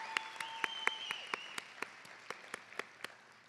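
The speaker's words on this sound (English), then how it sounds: "Definitely, they deserve some applause." A small audience at a nursing college pinning ceremony in South Jordan claps faintly, a sparse scattering of distinct individual claps spread over a few seconds in a quiet hall.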